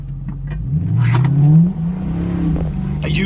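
A car on 315 tires revs up with a loud, close engine note that climbs and then drops as the wheels spin out under light throttle, with a brief voice near the end.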